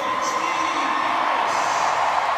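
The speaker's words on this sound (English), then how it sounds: "watch for this cheer" A stadium crowd at the World Para Athletics Championships in London 2017 roars for a British runner, producing a steady broad wash of cheering and whooping throughout, with no breaks.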